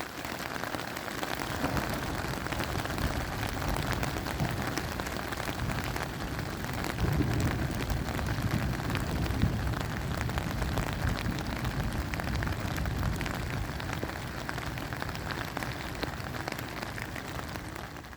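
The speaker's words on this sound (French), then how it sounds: "La pluie arrive en milieu d'après-midi le lendemain, vers 4h moins le quart." Rain falling on a tent in the Alps, a steady, close patter of drops that continues evenly throughout without a break, with no voices.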